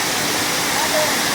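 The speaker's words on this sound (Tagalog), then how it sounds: "There's a waterfalls here" Waterfall at Longshan Temple in Taiwan, a steady broadband rush of falling water that holds level and close throughout, with a faint voice somewhere beneath it.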